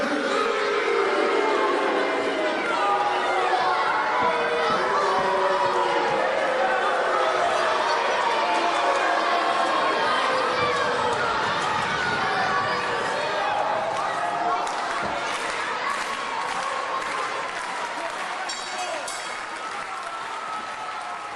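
A wrestling crowd cheers and roars continuously for over twenty seconds, a dense wash of voices and applause filling the arena, with commentary talk running over it.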